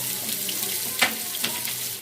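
Onions frying in a cup of hot cooking oil in a pot make a steady, close sizzling hiss with a few small pops and crackles, for a chicken nihari.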